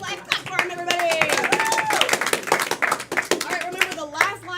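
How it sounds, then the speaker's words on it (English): Audience clapping at a live improv-style stage show after a scene, a steady patter of hands running throughout under loud overlapping voices and shouts. "Clap for him, everybody."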